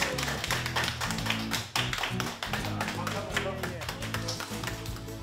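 Audience clapping at a lively Korean comedy-style English lesson for elderly participants, with a steady burst of many hands under music and voices, briefly dipping twice before resuming.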